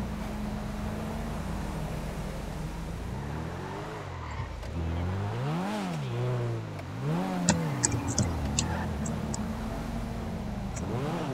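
A car driving in the video game GTA V, its engine droning steadily and then revving up and down in rising and falling sweeps, with a few short clicks near the end and someone speaking faintly in the background.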